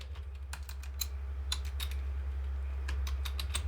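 Keys on a computer keyboard clatter in quick irregular clusters of taps while code is typed, close and fairly faint over a steady low hum, with no talking.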